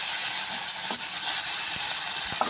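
Tomatoes sautéing in a pan for an onion and roasted-gram chutney give off a steady, even hiss, with a few faint clicks and pops and no voices.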